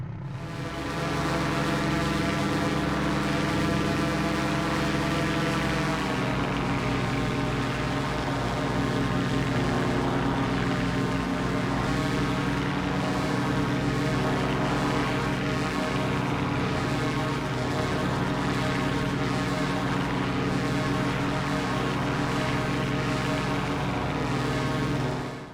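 Edgley Optica aircraft engine in flight in Microsoft Flight Simulator: a constant droning propeller hum with a steady, dense tone that holds unbroken throughout, with a slight shift in pitch partway through.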